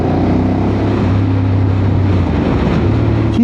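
A Ducati 848 Streetfighter motorcycle being ridden, its engine a steady low throbbing drone with wind rush, close and continuous throughout, no talking.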